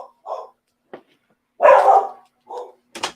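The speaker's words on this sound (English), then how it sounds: "sorry for the dogs" Several dogs bark indoors in separate sharp bursts, with one longer, louder bark in the middle and quieter yips around it, separated by silence.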